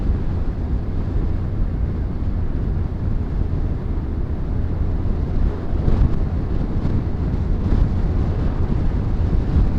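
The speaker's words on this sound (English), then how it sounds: "Wind is getting up a little bit" Wind buffets a Crosstour CT9900 action camera fitted with a mic mod, giving a loud, continuous low rumble that swells slightly in gusts toward the end.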